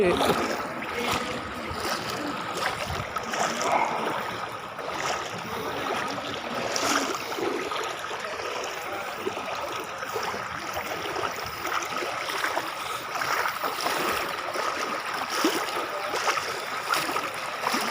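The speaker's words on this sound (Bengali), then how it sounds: "এই বর্ষায় লাইভ করে কেউ? ভাই জল, কি জল রে!" Heavy monsoon rain pours down in a town street, a dense, steady splashing roar of water that runs the whole time with little change in level. Faint voices may sit under it.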